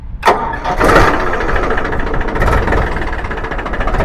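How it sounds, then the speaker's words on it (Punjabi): A 2012 Farmtrac 60 tractor's diesel engine cranks and catches, then settles into a loud, steady chug that keeps running close by. "ਬਹੁਤ ਸੋਹਣੀ ਆਵਾਜ਼ ਆ ਟਰੈਕਟਰ ਦੀ"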